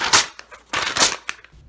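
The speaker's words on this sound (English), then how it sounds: "Ripping a piece of paper is forte." A piece of paper is torn in rough, crackling bursts, two louder rips separated by short pauses and smaller tearing snaps, close and fairly loud.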